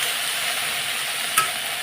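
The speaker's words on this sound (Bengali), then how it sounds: "এখন এই তেলের মধ্যে আমি ভেন্ডি ভাজাটা বসিয়ে দেবো" Okra (bhindi) sizzles in hot oil in a home kitchen, a steady crackling hiss with one brief stir or clink near the end, close and with no voices.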